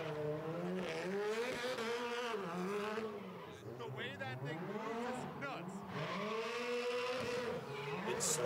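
An all-wheel drive gymkhana rally car slides and spins its tires, its engine rising and falling through repeated revs under continuous talking.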